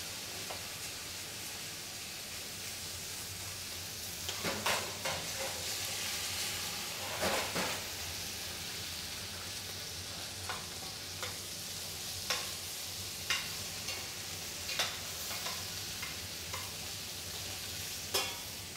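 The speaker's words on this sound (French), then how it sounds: "Déglacez avec l'armagnac. Dès qu'il est chaud, flambez-le pour faire disparaître l'alcool." Meat for Pouteille du Gévaudan sizzles steadily in a pan deglazed with Armagnac, with a constant hiss and bubbling broken by scattered scrapes and knocks of a stirring utensil, close but fairly soft and without talk.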